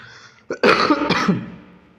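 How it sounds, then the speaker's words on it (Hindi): A close, sharp throat clearing followed by a short burst of coughing from a person with a cold, a couple of harsh rasping bursts, then quiet. "मुझे ना थोड़ा सा खांसी जुकाम अभी भी है"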